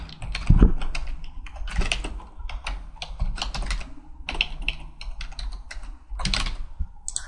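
Login details typed on a computer keyboard, close, crisp key clicks arriving in quick clustered bursts separated by short pauses, loud and alone with no talking.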